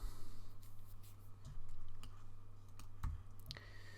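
A computer mouse is clicked a handful of times, each click faint and sharp, over a quiet steady hum at a desk.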